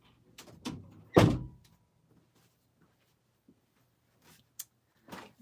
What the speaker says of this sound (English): I'm going to close my door.